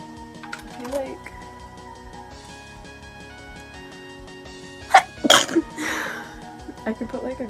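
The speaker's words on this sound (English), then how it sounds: "All of these swimsuits are really dusty. It's like making me sneeze." A woman sneezes once, loud and close, amid dusty swimsuits, with a short sharp burst followed by a few softer breathy sounds, and quiet music and speech around it.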